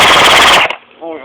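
Airsoft rifle, a SCAR-style replica used in a six-on-one skirmish, fires a loud rapid burst for about half a second, then cuts off into quiet with a faint voice afterward.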